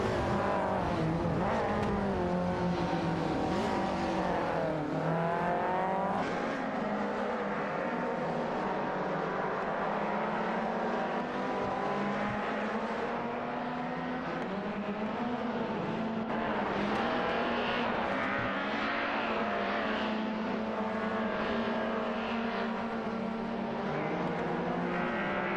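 BMW 320i race cars in a racing video game, engines droning steadily and close with rising and falling pitch as several cars jockey together for position, a continuous loud whine throughout with no pauses.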